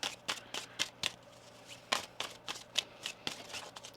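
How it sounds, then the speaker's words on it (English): A deck of tarot cards is shuffled by hand in a series of crisp riffling bursts, about a dozen sharp papery flutters spaced unevenly over a few seconds, close and clear with no talking. "One more shuffle."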